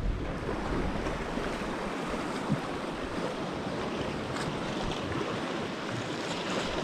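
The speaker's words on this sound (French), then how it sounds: "Merde, le vent s'accélère là ce coup-ci." Strong, steady wind roaring by the sea, buffeting the microphone with a constant broadband rush and no voices.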